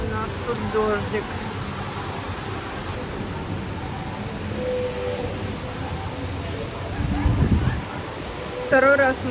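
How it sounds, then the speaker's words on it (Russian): Heavy rain falls during a seaside storm in Turkey, a steady dense hiss of drops throughout, with people talking faintly underneath and a few louder bumps near the end. "Вот это у нас тут дождик."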